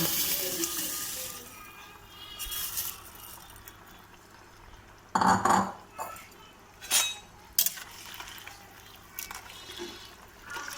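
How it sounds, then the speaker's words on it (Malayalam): Quiet kitchen ambience broken by a few short bursts as biryani rice is tipped into bubbling water, with faint clinks of a pot. "ഈ വെട്ടി തിളയ്ക്കുന്ന വെള്ളത്തിലേക്ക് നമുക്ക് ബിരിയാണിയുടെ അരി ഇട്ട് കൊടുക്കാം"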